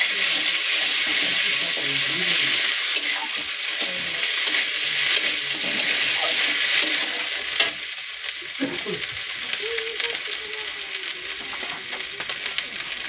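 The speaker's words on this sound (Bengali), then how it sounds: "অল্প করে জল দেওয়া হবে, পরিমাণ মতো জল।" Water poured into a hot pan of fish curry, a loud, continuous rushing hiss and sizzle with stirring scrapes throughout.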